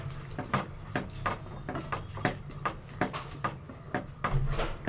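Metal spoon scraping and clinking against a pan while okra and tomato curry with garam masala is stirred, a steady run of close, rhythmic taps and scrapes without talk.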